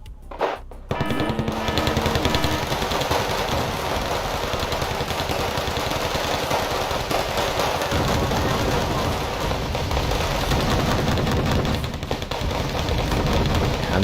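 Artillery barrage in Wargame: Red Dragon, a dense, steady roar of rapid distant blasts and rumbling that runs without a break from about the first second, with no voices.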